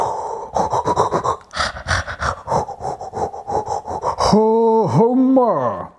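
A person's voice imitates a dog panting, quick rhythmic breathy huffs repeated rapidly for several seconds, close and loud, followed by a brief hummed vocal slide.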